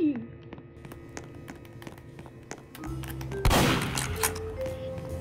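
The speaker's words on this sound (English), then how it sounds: "I had to shoot it." Gunshots ring out in a video game, with a string of sharp, evenly spaced shots followed by a louder, denser volley, all set against background game sounds and a voice.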